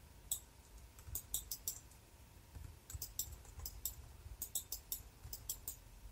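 Rapid mouse clicks come in quick clusters at a computer during UV mapping work, close and crisp, with short pauses between bursts.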